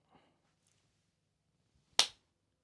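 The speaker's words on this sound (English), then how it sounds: "You love when I do that, when I do a big clap" One big, sharp hand clap cracks out loud and close in an otherwise quiet room, preceded only by a faint small sound.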